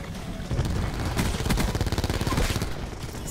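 Spitfire machine gun fired from the hip in a video game, a dense rapid burst of loud shots in a fast steady rhythm lasting several seconds.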